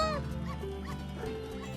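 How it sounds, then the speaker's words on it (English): Dogs barking and yipping in a fishing video game, several short barks and whimpers over steady game music and effects, fairly loud and continuous. "I heard dogs barking."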